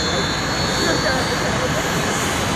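A brightly painted airplane passes at an air show, its engine a steady, loud broadband roar filling the whole stretch with no clear rise or fall.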